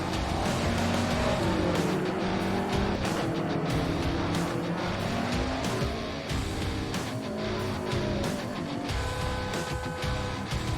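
GT3 race cars lapping Circuit Paul Ricard in a Blancpain GT3 Series sim racing game, engines wailing and shifting through revs as several cars pass close together, loud and continuous for about ten seconds.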